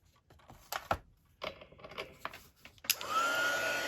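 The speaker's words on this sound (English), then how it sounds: "So I'm gonna have to use the heat gun again." Several scattered clicks and handling taps lead into a heat gun starting up, its steady blowing whine holding to the end as it dries a wet journal page nearby.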